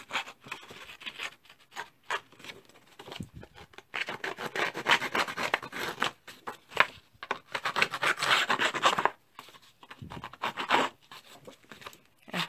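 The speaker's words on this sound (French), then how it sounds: "Je vais le distresser avec le petit distresseur" A small bladed distressing tool scrapes and rasps along the edges of decorative paper in a lace and butterfly craft piece, giving close, repeated scratchy strokes in irregular bursts with short pauses between them.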